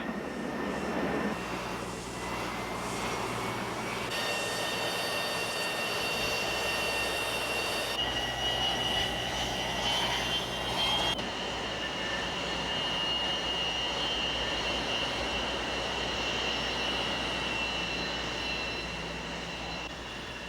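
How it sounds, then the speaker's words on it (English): Military aircraft engines turning during taxi, a loud, steady roar with a high whine layered on top, continuous and close for the full twenty seconds with no voices. "as we taxi up, there are two young enlisted men that come up underneath my aircraft, right under the engines while they're turning."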